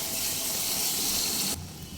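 Lukewarm water hits a frying spice paste in a pan, giving a loud, steady hiss and sizzle that drops off abruptly near the end, with no talking.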